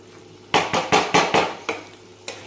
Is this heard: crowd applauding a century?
no